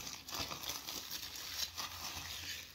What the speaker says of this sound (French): Donc je le déballe.